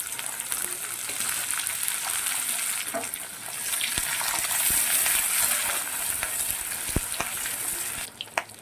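Boiled chickpeas tipped into a pan of garlic frying in oil give a steady, fairly loud sizzle, with a few sharp clinks and stirring scrapes along the way and no voices.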